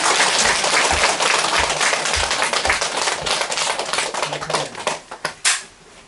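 Applause from a Korean audience, dense clapping that starts loud and steady, then thins into scattered individual claps before fading out.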